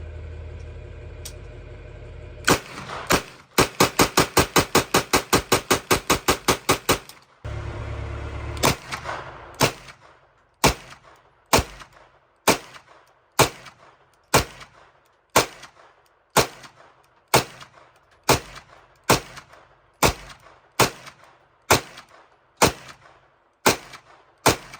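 An original IMI Uzi submachine gun fires a 20-round magazine outdoors, first a fast burst of loud close shots, then a long string of single shots spaced about a second apart, each with a short echo.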